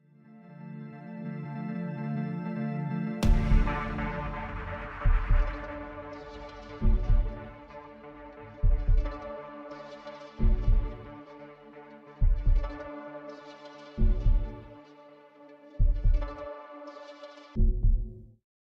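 A heartbeat sample plays in an electronic remix, with a sustained droning tone under it and then evenly spaced heavy, low double thumps, loud and steady, roughly every two seconds.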